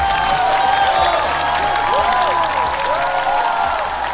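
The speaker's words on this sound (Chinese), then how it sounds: "再次掌声送给各位。" Audience applause and cheering at a Chinese celebrity roast show studio taping, a dense steady wash of clapping at even loudness throughout, with some crowd noise mixed in.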